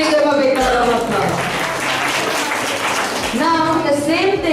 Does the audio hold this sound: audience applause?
yes